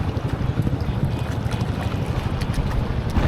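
A reserved boat travels along a river near the Assam border, its steady engine rumble and rushing water and wind filling the scene loudly with no pauses.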